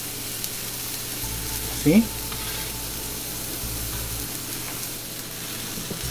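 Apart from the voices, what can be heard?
pineapple sizzling while grilling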